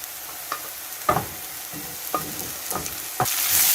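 Rehydrated vegetables and onions stirred and fried together in a pan for egg fried rice, constant sizzle broken by a handful of sharp utensil scrapes and clacks at irregular intervals, no voices.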